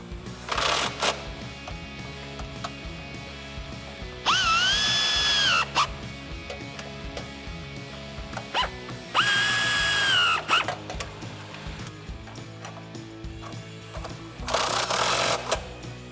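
A power drill with a 13mm socket whirs in three loud bursts, driving bolts for textured black PNC side step bars on a Jeep Wrangler JL, with quieter clanks and handling noises between runs.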